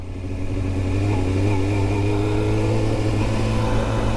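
A Yamaha R7 motorcycle engine runs while riding, a loud continuous droning rev that climbs slightly in pitch as the bike pulls away, close to the microphone, with no talk audible.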